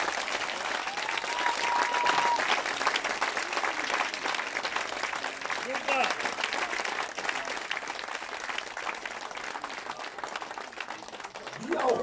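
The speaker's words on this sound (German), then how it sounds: "Herzlichen Dank. Applaus." Steady, dense applause from an audience after a performance by a marching band and brass orchestra, sustained at even loudness for about twelve seconds, with faint voices underneath.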